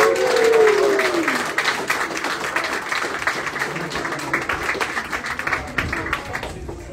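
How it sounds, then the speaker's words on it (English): Guests applaud at the 25th anniversary party of cigar company C.Gars Ltd, a lively burst of clapping that starts loud and slowly thins, with a brief voice at the very start. "I hope we can come up with 25 years worth of applause for him"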